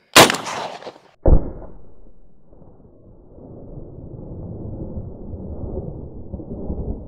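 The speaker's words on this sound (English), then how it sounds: "Rifle. We're bringing out literally the big gun. 30-06, underloaded for an M1." A 30-06 rifle round, underloaded for an M1, fired into cheap body armor: one sharp, loud gunshot opens, a second hard impact crack follows about a second later, then low rumbling outdoor noise trails off.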